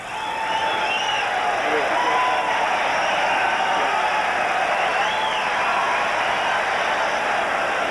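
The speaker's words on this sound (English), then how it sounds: "the fans here applauding one of the ball girls who retrieved that foul off Foster's bat" A baseball crowd at a 1986 Mets–Cubs game in Chicago applauds a ball girl who fetched a foul ball. The applause and crowd noise run steady and continuous for the whole stretch, and a voice talks over it.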